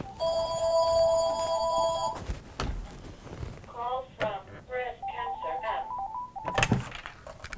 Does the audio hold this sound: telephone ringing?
yes